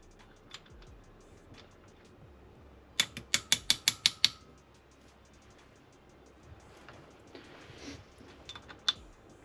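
Ratchet torquing bolts on a Honda XR80 fitted with a 95cc big bore kit gives a quick run of about seven sharp, close clicks in a row, with a few softer metallic ticks before and after.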